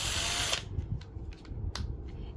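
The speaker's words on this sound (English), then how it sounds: "I am going to use this drill." Vevor cordless power drill spinning up loud and close for about half a second, then cutting off, followed by faint clicks and handling noise from the tool set.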